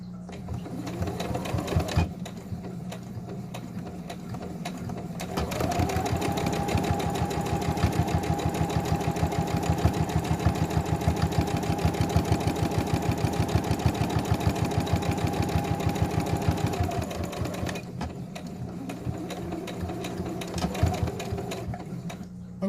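Sewing machine stitching a double seam along the center of a modified Olson fabric face mask, a steady close motor whir with rapid needle clatter running continuously for most of the stretch, slowing briefly at the start and near the end.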